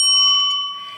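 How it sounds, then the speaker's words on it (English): A bell rung once during a live online real estate broadcast, a bright sustained ding that rings out clearly on its own and slowly fades. "I'm going to ring the bell."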